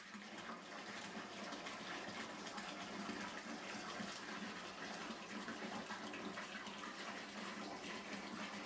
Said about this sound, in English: So I am going to fill up a tub the rest of the way and hop one in here